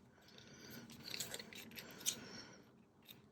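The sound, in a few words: scissors trimming paper for a junk journal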